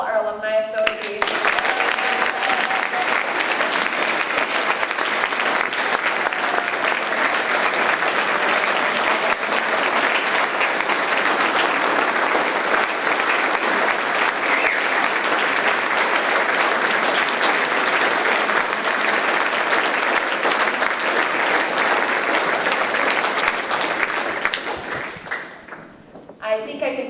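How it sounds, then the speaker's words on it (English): A dense, steady ovation fills a college alumni awards dinner, the whole room clapping loudly and evenly for the Alumni Association for nearly half a minute before tapering off abruptly at the end. "Let's have one more final round of applause for all our Alumni Association."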